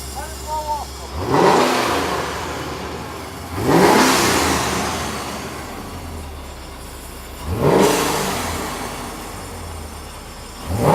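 A stock supercharged 4.6 V8 car engine is blipped four separate times, each sharp rev swelling loudly and quickly falling back to a low idle between bursts.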